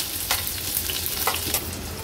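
A small onion frying in oil with green chillies and crushed garlic for an Agri Koli style pomfret thali, giving a steady close sizzle with faint stirring clicks throughout.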